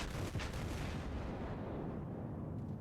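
Battleship New Mexico fires a salvo in World of Warships: a dense, booming wall of gunfire that rolls on for nearly three seconds at steady, heavy loudness.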